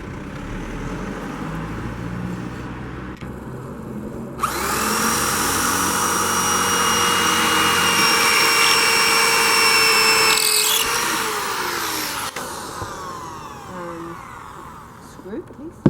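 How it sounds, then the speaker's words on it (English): An orange power drill whirs loudly for about six seconds while fitting a frame for a stained glass window, its motor pitch steady before winding down. Quieter handling noises come before and after, and a person speaks faintly. "Orange drill."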